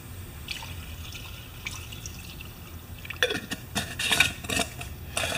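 A small Honda mower part is washed in solvent in a jar, with quiet liquid sloshing and dripping plus light clinks of metal against glass, growing busier toward the end.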